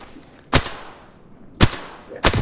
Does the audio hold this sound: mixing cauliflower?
no